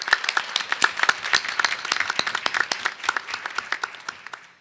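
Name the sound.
round of applause for teachers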